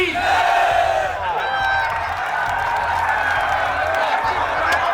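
A huge crowd of farmers at a Kisan Mahapanchayat rally roars and chants together, loud sustained cheering and shouting filling the air from start to finish.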